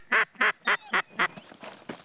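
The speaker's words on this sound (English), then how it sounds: "they wait to see if they can lure the ducks into this corner of the lake" Ducks on a lake give five loud, evenly spaced quacks close by, followed by several fainter, rougher quacks trailing off.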